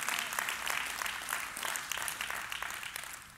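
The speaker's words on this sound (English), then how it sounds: "Go ahead and clap your hands." Congregation clapping hands during a church service, a steady rhythmic wash of many hands beating together in time, loud and continuous throughout.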